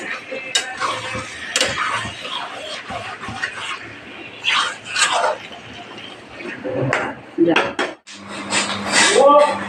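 Mutton and potato curry is stirred in a metal wok, with irregular clanks and scrapes of a utensil against the pan, close and fairly loud, a light sizzle between strikes and no talking.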